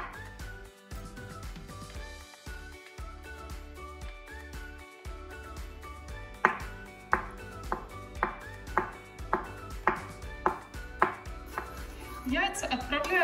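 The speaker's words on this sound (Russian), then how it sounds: "Также в салат порежем вареные яйца." A knife slicing three boiled eggs for a salad on a cutting board: a few soft cuts at first, then a steady series of close, evenly spaced chops and a quick flurry at the end.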